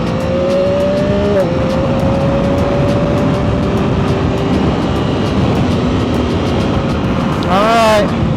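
Motorcycle engine droning steadily on a ride, its pitch holding with a brief shift near the start and a rising rev sweep toward the end, loud against continuous wind rush.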